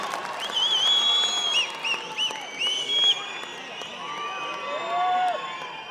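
An audience at a political speech by Siddaramaiah claps and cheers in a sustained wave, with shrill whistles rising over the crowd noise throughout.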